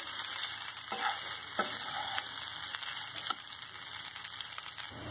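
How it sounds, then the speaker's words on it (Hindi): Cashews and cumin seeds roasting for jeera rice over low heat, a steady soft frying sizzle with occasional scraping stirs of a spoon, close and continuous with no voices. "5 मिनट के लिए बस भूनेंगे"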